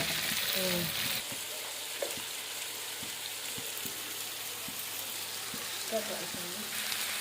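A soya chunks kebab mixture fries with tomatoes in a pan, giving a steady crackling sizzle with scattered stirring taps and scrapes. It is fairly close and continues without talk.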